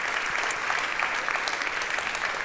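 An audience applauds at a conference tribute, a dense, even wash of many hands clapping, steady and fairly loud throughout with no pauses.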